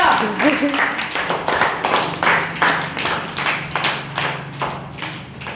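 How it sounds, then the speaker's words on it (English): A small group of students in a spoken English class claps for a classmate, a loose run of separate hand claps roughly in rhythm, fairly close, with some chatter and a low hum under it. "Give a clap to Hanta."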